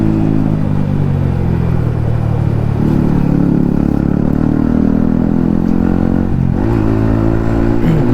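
Yamaha MT-15 motorcycle fitted with an Akrapovic exhaust riding through city traffic near India Gate, its engine droning loud and steady with rising revs and throttle changes, close and continuous with no talk.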